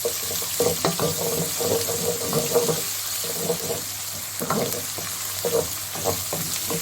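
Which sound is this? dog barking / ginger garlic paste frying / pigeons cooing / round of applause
ginger garlic paste frying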